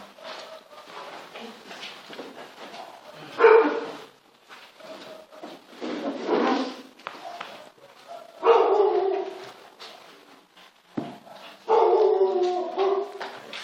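A dog barks repeatedly indoors in loud, irregular bursts separated by short pauses, with a few whimpering yips between them.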